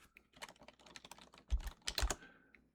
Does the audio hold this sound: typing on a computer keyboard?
yes